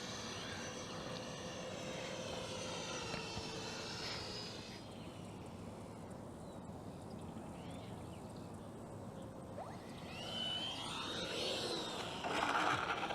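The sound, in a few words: FMS 64mm EDF F-16 RC jet flying to land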